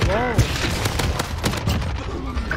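Rapid automatic gunfire in the Call of Duty Warzone video game, dense bursts of shots with booming thuds running the full length under a player's continuous excited talk.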